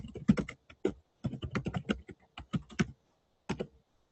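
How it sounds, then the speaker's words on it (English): Typing on a computer keyboard into a chat box, with close, clear clusters of rapid key clicks in several bursts separated by short pauses, alone in a quiet room. "So I'm going to put in the chat box, if this will let me type."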